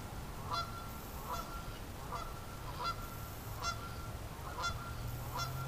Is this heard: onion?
no